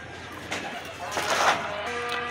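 Soft pigeon cooing close by, low murmuring calls repeating over faint background hum.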